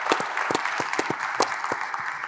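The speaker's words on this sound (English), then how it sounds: "Let's give them a big round of applause." Applause from an audience at a business talk, a smaller round of distinct, fairly loud claps with a steady patter underneath.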